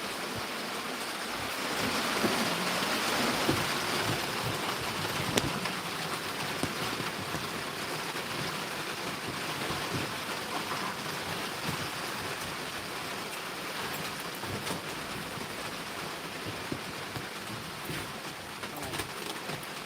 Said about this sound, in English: can y'all hear that rain hitting that tin roof?